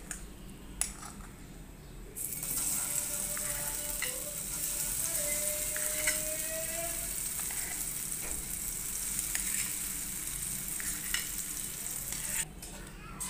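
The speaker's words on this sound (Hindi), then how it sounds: "चम्मच चलाते हुए अच्छे से थिक कर लेंगे। मिल्क पाउडर का पेस्ट हमारा अच्छे से थिक हो चुका है।" Milk powder paste cooking in hot ghee for milk peda, with a steady sizzle that swells after a quiet start and soft scraping as a spoon stirs the thickening mixture.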